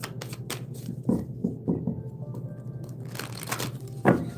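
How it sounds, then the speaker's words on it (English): Soft riffling and flapping of tarot cards being shuffled, in several short bursts with brief pauses, close up and fairly quiet. "But the other deck it's difficult to shuffle"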